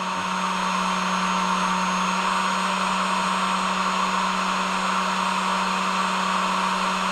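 A Holden HT Monaro heater blower fan on high speed with no heat, giving a steady, loud whirring rush with a low hum that stays constant throughout, no voices.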